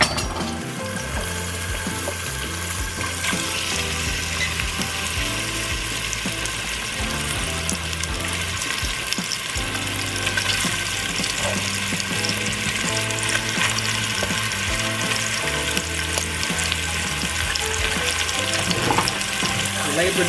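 Beef sausage fries in a pan with a continuous hissing sizzle, heard under steady background music.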